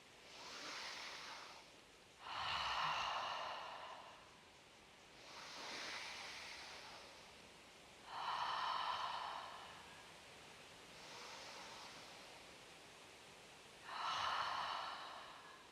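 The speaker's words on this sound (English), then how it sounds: "I want you to take 3 deep breaths with me" Slow, deep breaths during a yoga session, six drawn-out breathy inhales and exhales alternating in a steady rhythm, close and soft with no talking.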